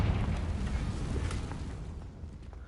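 The Confringo fire curse in the Hogwarts Legacy video game bursts with a low rumbling roar that is loud at the start and slowly fades over a couple of seconds, with no talk.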